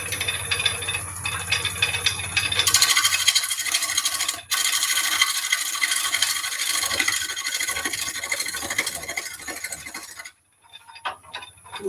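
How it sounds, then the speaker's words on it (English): A big bowl gouge flattening the bottom of a wooden bowl on a lathe gives a steady, rasping scrape across most of the stretch, with a brief pause partway and a quieter gap near the end. "We're going to flatten off the bottom. We'll stick with that same big bowl gouge."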